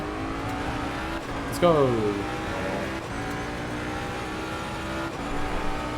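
Race car engines in Assetto Corsa Competizione, a steady loud engine drone with a brief rising rev and gear shifts, with a voice talking briefly over it.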